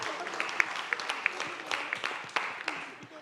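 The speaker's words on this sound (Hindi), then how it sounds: "एक बार जोरदार ताली हो जाए अर्जी के लिए यार।" Studio audience applause at a celebration for a long-running Indian TV sitcom, moderately quiet clapping with several sharp individual claps standing out above the crowd, while voices talk alongside.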